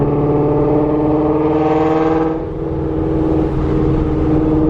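A supercharged widebody Shelby GT350 Mustang's Voodoo flat-plane V8, on factory exhaust with catless headers, revs high, a loud sustained engine howl that dips briefly midway then climbs and holds again.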